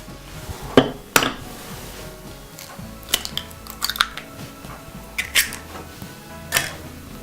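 An egg goes into quark in a medium bowl, with sharp clinks and taps against the bowl, a few scattered knocks and soft scraping handling sounds, fairly close and without talk.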